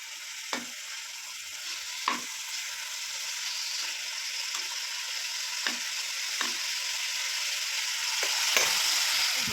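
Food frying slowly over low heat in a pan with a steady soft sizzle throughout, broken by a few brief clinks of stirring, close by and moderately loud with no talking.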